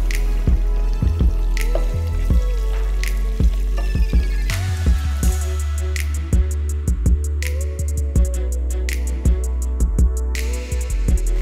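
Prawns dropped one by one into hot oil over a medium flame, giving a steady close sizzle with repeated sharp pops and spits as each piece hits the pan.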